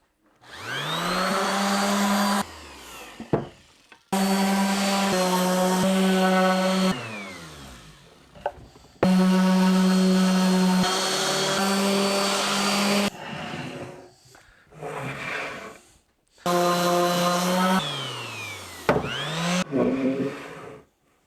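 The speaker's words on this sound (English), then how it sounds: "Time for a light sanding to prep it for finish." A power sander lightly sanding plywood whines in several long bursts, starting and stopping with short pauses between runs, steady and fairly loud up close.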